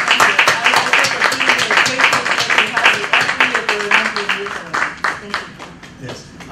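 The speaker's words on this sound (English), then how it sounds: "let's all truly give a big heartfelt round of applause to this community building" An audience at a Moon Festival media conference claps in a brisk, uneven burst of many hands, fairly close and sustained, with voices mixed in beneath the applause.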